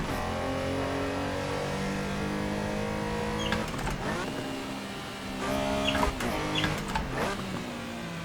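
A Porsche 911 Carrera RSR 3.0 racing engine in Assetto Corsa drones at high revs, then gives several quick throttle blips as it downshifts one gear after another, with pitch dropping and rising.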